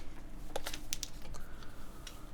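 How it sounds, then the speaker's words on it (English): A few sharp, irregular keyboard clicks sound up close against a quiet background, keys being tapped on a QK Neo60 Cu mechanical keyboard. "And let me put the mic over and we'll start typing."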